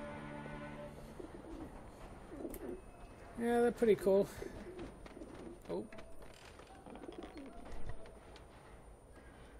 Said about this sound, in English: The pigeons.